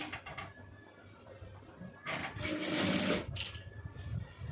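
A sewing machine stitches the lining of a silk blouse, its motor whirring in bursts that swell loudest near the middle and trail off, with no talking over it.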